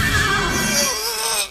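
Horse whinnies loudly and close, a long wavering neigh that fades out at the end, heard alone without any talk.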